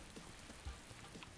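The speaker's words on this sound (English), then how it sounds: "I'm enjoying these rain vibes. I always enjoy a good rain vibe." Steady rain ambience in a Celeste video game level, a soft continuous hiss of drops on a surface with faint scattered patters, quiet and even throughout.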